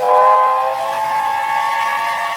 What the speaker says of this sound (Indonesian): muncullah kereta api berbahan bakar uap